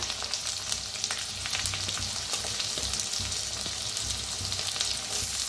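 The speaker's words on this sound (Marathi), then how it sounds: "कांदा मी भाजून घेऊया।" Chopped onion fries in a hot pan for a Marathi safflower-leaf (karadi) bhaji, giving a steady, close, dense sizzle and crackle that holds evenly throughout with no talking.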